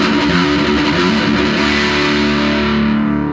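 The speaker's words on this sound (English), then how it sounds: "So I can go from this full-on distortion sound" A loud, heavily distorted electric guitar chord through a Donner Morpher distortion pedal rings out, thick and saturated, sustaining and slowly fading.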